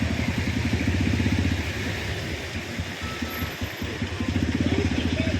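A motorcycle engine putters nearby with a steady, pulsing throb that rises and dips slightly, no talking over it.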